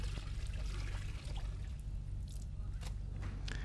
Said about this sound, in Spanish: Ella lava y enjuaga una y otra vez el vellocino para que la lana suelte la tierra.